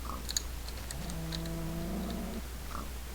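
A cow in the Minecraft video game lets out one steady, drawn-out moo over faint game background noise, with scattered light clicks and taps around it.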